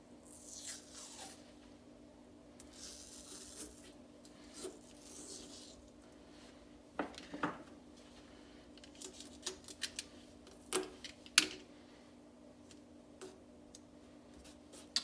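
Hockey tape being pulled and wrapped around the tip of a rattan SCA sword: intermittent raspy peeling bursts and scattered small clicks and taps, close and fairly quiet.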